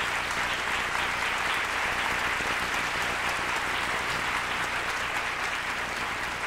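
Sustained applause from a sizable audience at a kabuki workshop's student performance, dense steady clapping throughout without pause.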